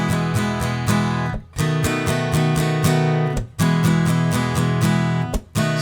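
Acoustic guitar strums the ending of a country song, finishing on E: bright strummed chords in a steady repeating pattern, broken by short pauses between three phrases, close and clear with no voices.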